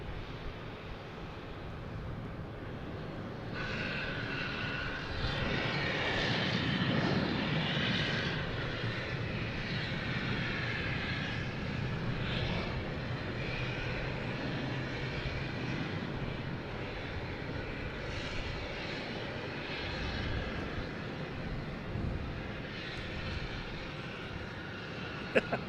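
An airliner taxiing at Boston Logan airport gives off a steady, moderately distant engine drone with a broad whine that swells slightly midway, continuous for the whole stretch with no voices.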